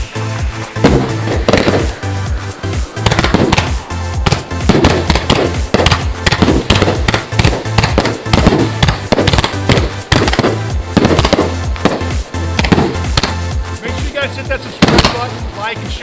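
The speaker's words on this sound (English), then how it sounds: "what a better way to send this whole thing off with the fireworks" Fireworks pop and crackle in rapid, irregular bursts of loud sharp bangs throughout, with some faint voices underneath.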